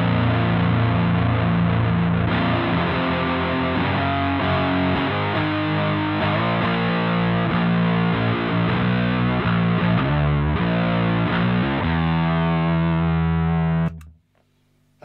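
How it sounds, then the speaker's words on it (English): Electric guitar through an EarthQuaker Devices Hoof fuzz pedal, thick saturated fuzz with sustained gritty chords and riffs played continuously and loudly, ending with an abrupt cutoff. "one of probably my all-time favourite fuzz pedals. It is the Earthquake Devices Hoof."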